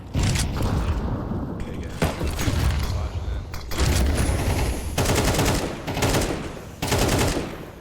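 Close, loud bursts of rifle fire from Counter-Strike 2 come in repeated volleys and single cracks over several seconds. A voice talks over the shooting.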